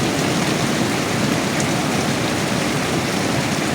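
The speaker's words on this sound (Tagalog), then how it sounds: "Ang lakas ng ulan dito sa amin" Heavy rain pours down in Maybunga, Pasig, in a dense, constant roar, loud and close, with no pauses or voices.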